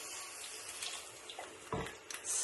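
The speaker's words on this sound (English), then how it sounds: "add a little bit of water" A little water is poured from a tap-like stream into a pot of cooked lentils already holding a spice mixture, giving a steady, fairly quiet splashing wash with a brief stronger gush near the end.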